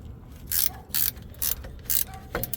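Ratchet wrench loosening the half-inch alternator bolt on a Thermo King SB230 reefer trailer unit: four or five quick bursts of sharp clicking, close and clear.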